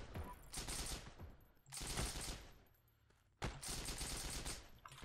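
Three separate bursts of automatic gunfire in the Heroes & Generals war game, each a sharp rattle that tails off, recorded fairly quietly at mid distance with short gaps between them.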